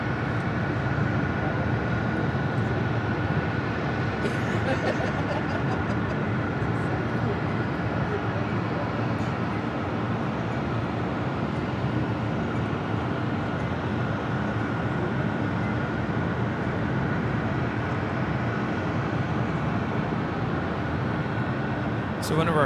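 Fiji Airways Airbus A350-900 jet taking off at LAX, a steady loud broadband engine roar that holds throughout with people talking over it.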